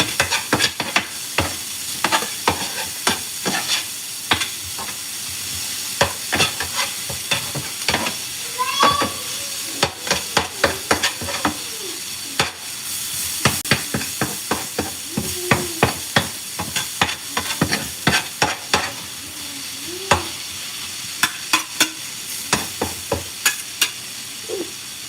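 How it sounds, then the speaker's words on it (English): Wet waffle batter with olive oil is stirred close up in a bowl, giving a run of quick, irregular scraping and clicking strokes, loud and near, with no voice. "And we're gonna mix the wet ingredients together"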